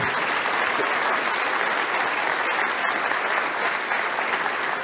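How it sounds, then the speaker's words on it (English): A large crowd at a college baseball hall of fame induction applauds continuously, a dense, even wash of clapping that holds steady at full volume throughout, with no voices standing out. "Let's hear it again for Bob Braddy, our first inductee of the night"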